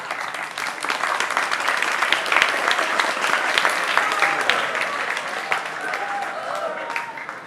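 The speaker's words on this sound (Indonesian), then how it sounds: "Kenapa tepuk tangan?" A large crowd applauds loudly and steadily, the dense clapping holding at an even level for several seconds before tapering slightly.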